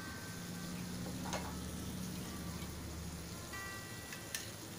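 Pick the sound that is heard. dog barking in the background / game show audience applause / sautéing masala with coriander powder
sautéing masala with coriander powder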